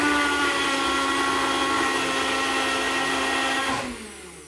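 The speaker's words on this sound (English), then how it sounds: "The whole blending process takes about a minute to a minute and a half." Small blender whirring steadily as it mixes an oil smoothie, a loud continuous motor whine that runs on evenly and then spins down and stops near the end.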